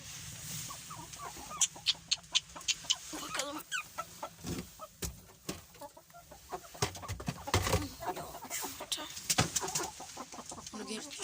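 Chickens clucking and squawking close by in bursts, two roosters and three hens, with a rooster-like call among them and faint background noise between the calls.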